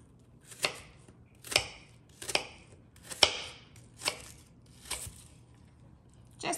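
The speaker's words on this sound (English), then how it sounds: "we're going to start with cutting off the onion" A knife chops an onion into small cubes on a cutting board, eight distinct crisp thuds at a slightly uneven, unhurried pace, close and clear with no talking.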